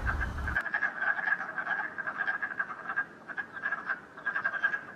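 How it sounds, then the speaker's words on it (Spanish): Toads croak in a continuous chorus, many pulsing calls overlapping in an uneven rhythm, moderately close and steady. A brief rumbling bump opens the recording before the croaking takes over alone. "Sí, son los sapos, muy importantes también para mantener nuestro ecosistema."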